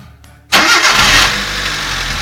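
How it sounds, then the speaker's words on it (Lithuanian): A Mitsubishi Colt engine cranks briefly and catches after half a second, flaring to a loud roar before settling into a steady close idle. "Matot dar kartą, kad kūrasi."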